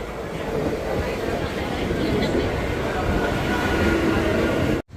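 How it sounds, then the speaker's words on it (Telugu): A local train pulls into a station with a loud, steady rumble of wheels and carriages, a continuous roar that cuts off abruptly near the end. "సో లోకల్ ట్రైన్ వచ్చేసింది"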